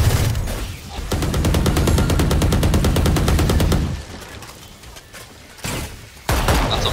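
Full magazine emptied in the video game Valorant, a loud rapid stream of gunshots for several seconds, then quieter scattered shots and a couple of sharp reports near the end.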